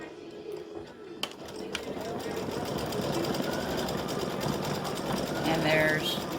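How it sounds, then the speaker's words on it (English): An embroidery sewing machine stitches dots onto a mug rug, a steady fast mechanical chatter that builds and runs continuously after a few clicks at the start, with a voice talking over it. "Alright, so I'm getting ready to stitch the dots."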